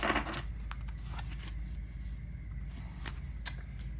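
An oracle card deck is shuffled by hand: faint, soft papery riffles and scattered light flicks, close by and quiet, with no voice.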